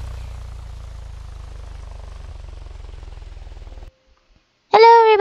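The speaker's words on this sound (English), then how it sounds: "Who wants a round plane?" Propeller plane in the Roblox game The Plaza, a steady droning engine hum that runs loud for about four seconds, cuts to near silence, then a sudden louder burst of engine tone near the end.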